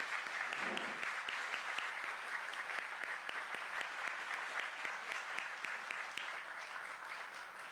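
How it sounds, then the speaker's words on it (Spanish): Sustained audience applause at a book launch for a civil and family procedure code, a dense steady patter of many hands clapping throughout, moderately distant and even in level. "un aplauso por favor por el autor"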